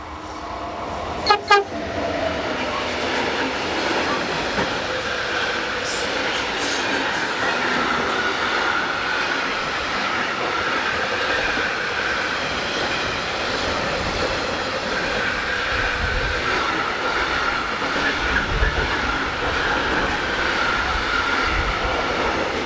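An ES64U2 electric locomotive on hire to Wiener Lokalbahnen hauls a train along the Rhine line, with a brief horn toot early on, followed by a steady, loud rolling rumble of wheels and wagons passing close by.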